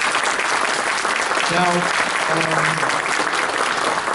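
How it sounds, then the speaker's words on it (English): Audience applause at a meeting of a human dignity assembly, a steady roomful of clapping that fills the whole stretch, with a voice speaking briefly over it. "another round of applause"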